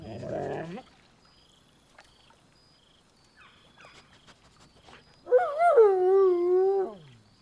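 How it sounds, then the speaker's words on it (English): Dog in the video game Baldur's Gate 3 gives a short yelp at the start. After a quiet stretch it lets out a loud, drawn-out whining howl that wavers up and down before trailing off, with no speech. "Scratch barks merrily in something like agreement."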